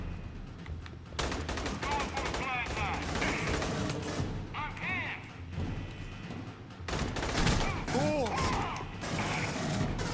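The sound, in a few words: gunfire in the video game Aliens: Colonial Marines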